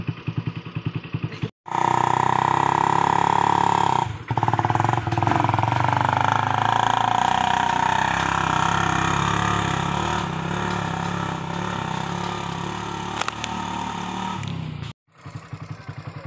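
A homemade vehicle built around a motorcycle engine, used for hauling palm oil fruit on peatland, runs steadily and loudly up close with a clattering mid-pitched engine note, cutting out briefly twice before carrying on.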